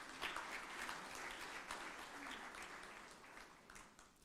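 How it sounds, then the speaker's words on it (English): Applause at a national quality awards ceremony, a steady wash of many hands clapping from a large audience, heard fairly faint and distant throughout. "I think that deserves a round of applause."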